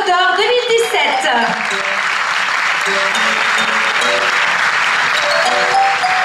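Sustained applause from a pageant audience at a Miss Côte d'Or ceremony, steady and dense clapping throughout, with a speaker's voice talking over it near the start.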